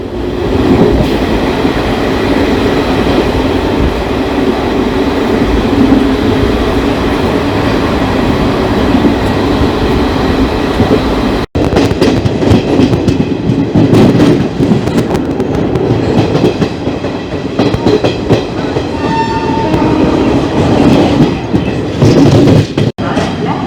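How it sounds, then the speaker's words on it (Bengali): The Black Diamond Express, a Howrah to Maithon train, runs at speed out of Sheoraphuli junction at about ninety, a loud steady rumble and rattle of wheels with clickety-clack beats and brief squeals, heard without any voices. "ট্রেনের স্পিডটা শুধু দেখুন"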